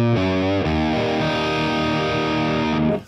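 Thick distorted electric guitar through an AmpliTube 5 Orange amp model and dry 4x10 cabinet plays a couple of quick chord changes, then a sustained chord that rings on before being cut off.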